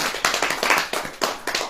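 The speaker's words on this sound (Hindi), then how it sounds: "ताली बजाओ।" A church congregation claps hands in a quick, uneven rhythm, bursts of sharp claps coming in clusters for under two seconds, close and fairly loud with no talking.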